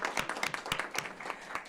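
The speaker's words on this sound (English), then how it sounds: "round of applause" Small room applause during an evening school board of education meeting, a modest group clapping steadily at close range for a short burst with distinct individual claps.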